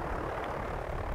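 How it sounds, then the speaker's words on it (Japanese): A Brotherhood of Steel vertibird in Fallout 4 drones past overhead, a steady low engine and rotor rumble heard continuously at moderate volume with no speech. "BOS の飛行機がすでに飛んでるな。"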